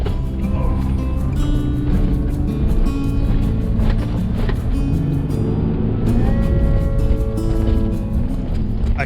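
A 4WD climbs over Simpson Desert sand hills with the diff lock engaged. The engine drones steadily and loudly at constant revs, with wind buffeting the microphone throughout.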